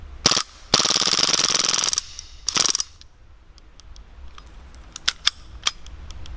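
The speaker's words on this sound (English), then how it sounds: "So it will keep running after you empty out all the rounds, and let's see if I can run out the CO2 cartridge." An Umarex Mauser C96 CO2 airgun fires with its magazine empty until the cartridge runs dry: a single loud crack, then a long rattling burst of rapid cycling, a short second burst, and a few faint clicks.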